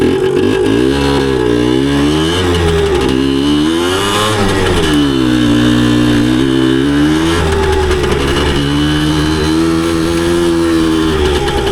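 A 1981 Suzuki DS100 motorcycle engine revs hard throughout a trail ride, its pitch rising and falling steadily as the throttle opens and eases, loud and close with a constant buzzing drone.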